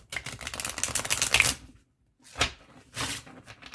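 Tarot cards riffle and shuffle in a quick crisp burst, followed after a pause by a few shorter shuffling and tapping sounds.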